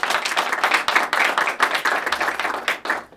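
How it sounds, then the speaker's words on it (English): Close, fairly loud applause from an audience at a county community grants awards event, with distinct individual claps in an uneven rhythm over a few seconds. "If we can give her a round of applause."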